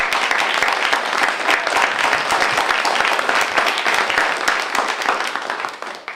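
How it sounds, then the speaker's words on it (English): Attendees at the grand opening of the McClymonds Youth and Family Center break into a steady round of applause. The clapping is dense and sustained, fairly loud and close, and eases off slightly at the very end. "I want to start by just having a round of applause for everyone in attendance"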